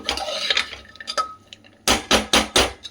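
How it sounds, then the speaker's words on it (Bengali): Spices being stirred into chickpeas and chicken keema in a metal pan, a spoon scraping and clinking against the pan in uneven strokes, then three louder rhythmic scrapes near the end, close up with no talk. "চানাটার সাথে মশলাগুলো একটুখানি ভালো করে মিক্স করে নেব।"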